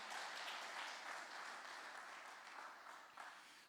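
A church congregation applauds during a sermon, a steady wash of many hands clapping that holds at moderate level and slowly tapers toward the end.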